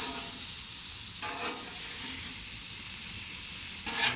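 Pork loin sizzling on a Blackstone 36 Pro griddle with sweet potatoes: a steady bright hiss of frying, swelling briefly twice as the meat is turned, with a small scrape near the end.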